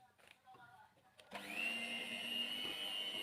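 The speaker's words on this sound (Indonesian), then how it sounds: "Mixer kembali hingga kuning telur ini tercampur rata." An electric mixer beats nastar dough with egg yolks, starting with quiet clinks before kicking into a loud, steady whirring drone that holds to the end.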